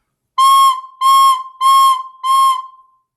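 Four breathy recorder notes with a finger leaving a tiny gap over a hole, each held about half a second in an even rhythm with short breaks, close and clear with no talking.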